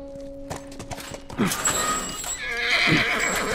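A horse in the video game The Last of Us whinnies twice, loud and close, with hoof clops and ambient game sound around it.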